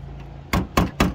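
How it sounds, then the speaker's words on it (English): Three sharp metallic taps of a hammer striking a flathead screwdriver to knock out a half-inch electrical knockout while installing an ICM517 surge protector, evenly spaced and close. "So what I'm gonna do is I'll take my hammer,"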